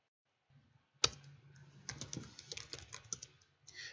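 Quiet typing of network commands on a computer keyboard, a sharp first keystroke followed by a quick irregular run of soft clicks, close and faint with no voices.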